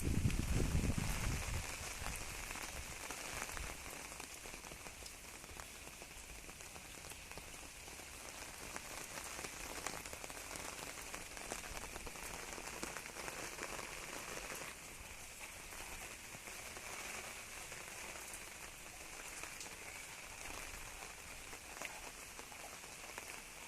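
Heavy monsoon rain pours down in Bhubaneswar, Odisha, in September 2021, a dense, constant hiss of drops on surfaces that stays unbroken for the whole stretch, with no voices.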